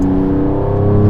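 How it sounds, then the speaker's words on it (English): 2022 Mercedes-AMG CLS53 4MATIC+ inline-six with 435 horsepower revving loudly up close, a rising throaty drone with a crackle over one short burst. "It already pops and bangs at 4000 RPM."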